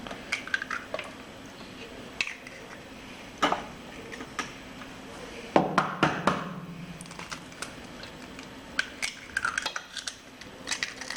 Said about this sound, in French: Je vais d'abord commencer donc à casser mes œufs